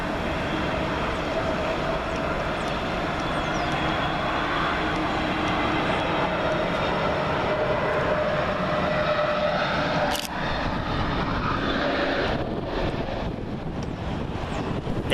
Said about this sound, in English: up is EasyJet's Neo livery, Airbus A320-251N, registration Golf Uniform Zulu Hotel Charlie, working flight U21912 from Palma de Mallorca